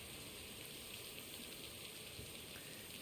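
Steady rain falls without pause, a dense even hiss of drops at moderate distance, with no voices or other sounds.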